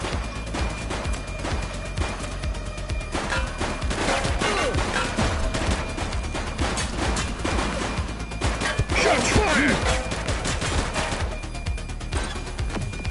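Gunfire from a suspect in the police video game The Precinct crackles and bangs continuously, dense overlapping shots and impacts filling the scene at a loud, sustained level.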